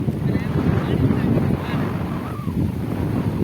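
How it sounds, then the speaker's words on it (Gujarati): Loud, constant wind buffeting the microphone, a low rumbling roar that continues without pause throughout. "પવન બહુ આવે છે. પવનના લીધે અવાજ સરખો નહીં આવે."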